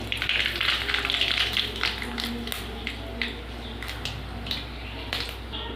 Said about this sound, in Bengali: তেলের উপর দিয়ে দেবো সর্ষে আর শুকনো লঙ্কা